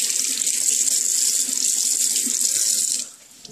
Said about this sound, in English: I'm just going to go ahead and rinse it underneath a little bit of water.